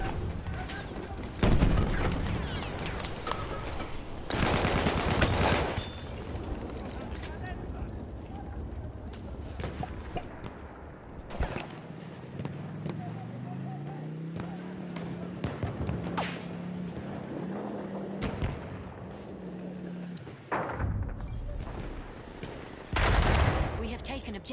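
Machine gun fire and gunshot bursts in the World War I shooter Battlefield 1, recurring loud volleys amid battle noise with voices shouting between them.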